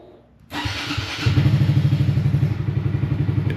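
A Honda Grom motorcycle cold-starts with a sudden crank and catch, then settles into a loud, close, steady single-cylinder idle with an even rhythmic thumping pulse and a slight mechanical clatter.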